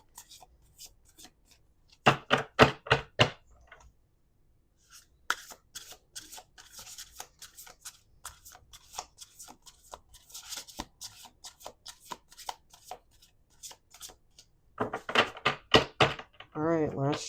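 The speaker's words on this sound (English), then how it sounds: "All right, we're going to do 3 more shuffles." A tarot card deck being shuffled in quick clumped bursts, crisp riffling rattles repeating several times with pauses between, close and fairly quiet.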